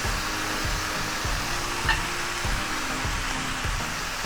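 Butter sizzles in a frying pan for a Jamaican breakfast, a steady close hiss under a low rhythmic hum, continuous with no talking.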